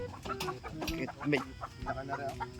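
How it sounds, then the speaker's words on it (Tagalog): Broiler chickens in a coop cluck and chatter continuously at close range, several birds overlapping in busy, uneven calls. "Nilang mga broiler chicken na idilipat sa aking kulungan."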